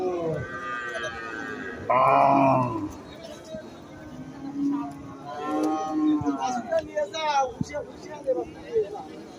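Cattle at a busy cattle market give a loud, drawn-out moo, followed by softer lowing amid steady talking and crowd chatter.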